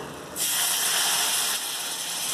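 A sudden loud sizzling hiss as milk is poured into a hot pan with fried garlic, close up, holding steady and easing slightly toward the end.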